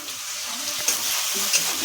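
Ginger and green chilli paste hitting hot oil with cumin, panch phoron and hing in a pan, giving a steady close sizzle with a couple of brief louder spits, no talking.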